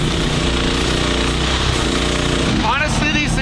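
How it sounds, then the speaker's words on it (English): A mini excavator's small engine drones loudly and steadily from inside the cab, a rough, generator-like buzz that never lets up, with a brief higher whine near the end. "the cab is super loud. It sounds like there's a Briggs & Stratton generator running underneath it."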